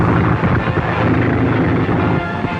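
Airplane engine droning in flight, a loud continuous roar with a rough low rumble and wind-like hiss, steady throughout with no voices.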